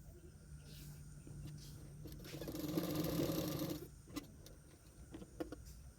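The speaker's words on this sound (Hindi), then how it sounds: "मैं सिलाई कर रही हूँ।" A sewing machine stitches through blouse fabric along marked lines, with padding on lining fabric, a steady mechanical whirring run that swells in the middle then stops, leaving a few light clicks.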